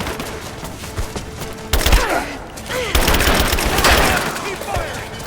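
Gunfire in the video game Rise of the Tomb Raider: dense, loud bursts of shots and a sustained fusillade with thumps and booms, close and continuous, mixed with shouted voices and game score.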